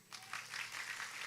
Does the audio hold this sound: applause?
yes